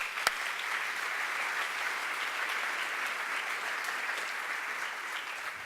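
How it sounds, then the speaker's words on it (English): A public meeting audience applauds steadily for several seconds, a moderate, even wash of clapping heard from a distance and fairly quiet, with no voices over it. "So everybody give Rocco a round of applause."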